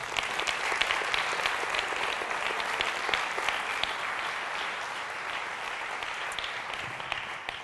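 A church congregation bursts into steady applause honoring the Lord during a sermon, dense clapping sustained at an even level for the whole stretch with no speech over it.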